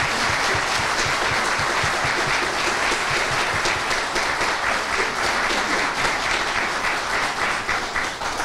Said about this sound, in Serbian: Još jedan aplauz za ambasadora.